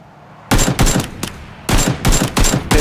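Automatic gunfire in the video game PlayerUnknown's Battlegrounds: loud close bursts of rapid shots, two volleys separated by a short gap, with no talk.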